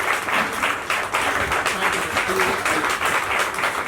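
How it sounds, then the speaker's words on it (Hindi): Steady, dense applause from an audience at a book launch, many hands clapping continuously and fairly loud throughout, with some voices mixed in underneath. "थोड़ी सी सभी लोग तालियां दे रहे तो बहुत अच्छा लगेगा"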